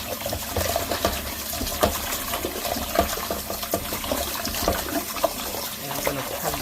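Meat for a Ghana bean stew rinsed under a running kitchen tap, steady splashing and gurgling water close up with small irregular spatters as the pieces are handled, continuous and fairly loud.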